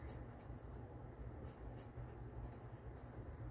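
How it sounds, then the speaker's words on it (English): A permanent marker draws on paper in short, quiet squeaky strokes, rhythmic and close, with no talking. "I go right into permanent marker because it shows up better"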